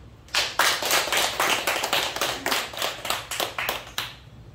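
An audience at a church gathering claps after a harmonica performance, with distinct, fairly close hand claps in an uneven rhythm that carries on steadily for several seconds and then ends with a few final claps.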